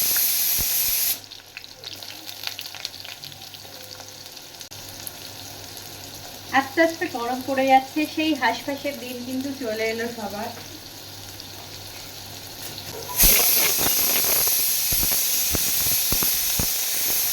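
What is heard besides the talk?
pumpkin and potato frying in a pan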